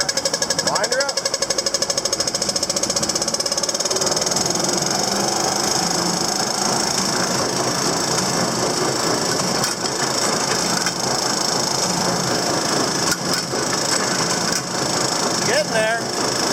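A Krone baler runs loudly and continuously, a dense, steady mechanical clatter with a few sharper knocks near the end, while people talk over it.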